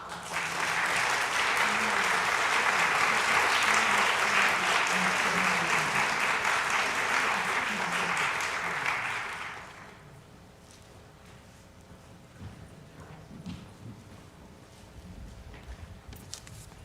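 A church congregation claps for about nine seconds in a loud, dense burst of steady applause, then it cuts off sharply into quiet room tone with a few faint stray sounds.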